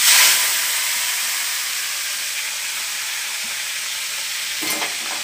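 Hot oil sizzles steadily as fish pieces fry in a pan, a dense bright hiss that flares loudest at the start when the fish goes in, then settles into a continuous crackle with a brief spatter near the end.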